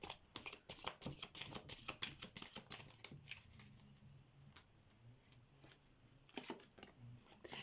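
Tarot or playing cards shuffled by hand during a reading, a quiet run of soft, rapid riffling clicks and flutters, denser at first, then sparse, then picking up again.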